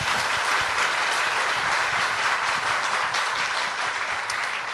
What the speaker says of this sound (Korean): 수고해 주신 우리 패널 분들께 크게 박수 한번 보내주시기 바랍니다.